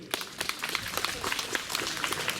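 Audience applause for a performer at a Ukrainian storytelling show, with dense overlapping claps spread through a hall and voices mixed in beneath.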